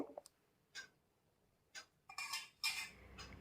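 A spoon clinks and scrapes against a pot while ghee-cooked bhoger khichuri is stirred, giving a few sparse, faint metallic taps and a brief stretch of louder scraping near the end.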